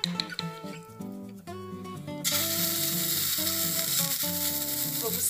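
Pork filet mignon hits a very hot pan and sets off a sudden, loud, sustained sizzle that continues steadily under background music.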